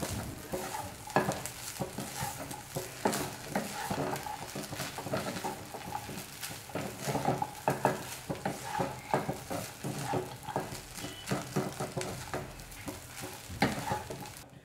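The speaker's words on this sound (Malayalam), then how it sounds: "അതിനുശേഷം നമുക്ക് നല്ലപോലെ തന്നെ ഒന്ന് മിക്സ് ചെയ്തെടുക്കണം." A spoon stirs grated coconut into upma in a pan, making a continuous busy scraping and rustling with frequent small clicks against the metal. The stirring is steady and close throughout.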